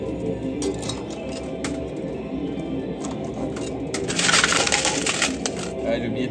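Metal coins clatter and clink as several drop at once in a real-money coin pusher arcade machine, with a steady run of chinks building to a louder cascade of falling coins amid arcade background noise.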